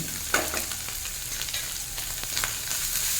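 Ground turmeric, chilli, coriander-cumin powder and salt hitting hot oil with already-fried ginger and garlic for a mourala fish-head tamarind chorchori, giving a steady, close hiss with light stirring scrapes throughout.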